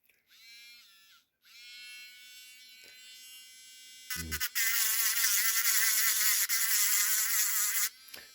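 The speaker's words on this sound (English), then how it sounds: "Just using a grinding stone." A rotary tool with a grinding stone whines at high pitch while cleaning up solder on handmade jewelry, running in short bursts, then a louder, harsher stretch as the stone bites the metal before stopping.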